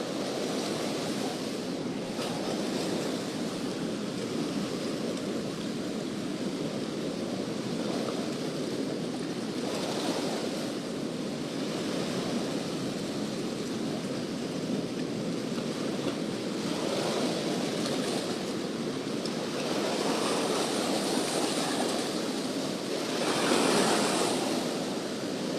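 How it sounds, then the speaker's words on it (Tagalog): Large ocean waves surging and breaking off the Siargao coast during a fishing trip, a continuous loud roar of surf with steady wind buffeting the microphone, swelling slightly near the end. "Malaking alon guys."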